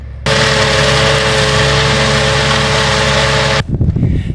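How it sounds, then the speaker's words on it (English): Loud, steady tractor engine running close by while cutting grass at the edge of the woods, a continuous drone that cuts off abruptly near the end, leaving rustling outdoor noise. "Don't know if you can hear the tractor"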